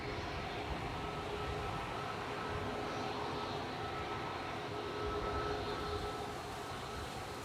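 An ATR 72-600 turboprop approaches to land at Manchester Airport in strong wind, heard from a distance as a steady broadband roar and rumble that swells slightly, with wind noise and no talking.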